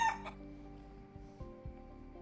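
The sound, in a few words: chicken sound stream alert effect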